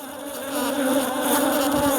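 Honey bees buzz loudly and close during a hive inspection in Nigeria, a dense continuous hum swelling slightly over two seconds, with no voices.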